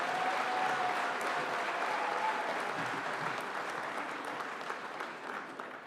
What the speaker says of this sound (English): please feel free to clap as loud and shout as much as you wish to celebrate their success